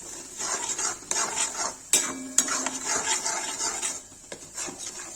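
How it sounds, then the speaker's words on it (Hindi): Cauliflower with salt being stirred and roasted in a pan, a spoon scraping and clinking against the metal in steady, close strokes with a few sharper knocks, no talk. "इसमें नमक डाल देंगे, इसको भूनेंगे।"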